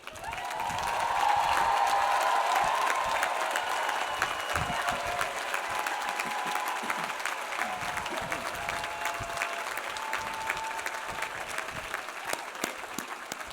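Families and friends at the Eckerd College 2024 commencement applaud while standing, a broad, sustained crowd ovation that swells early and then holds steadily for several seconds, with no voices over it.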